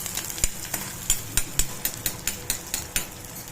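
Onions sizzling softly in oil, with repeated scraping taps of a spoon stirring them in the pan at a steady rhythm, close by and fairly quiet, no voices.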